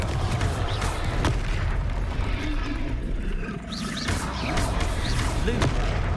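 Confringo fire-spell explosion in the video game Hogwarts Legacy, heavy booming blasts with low rumble over dense game ambience, with a couple of sharper cracks cutting through.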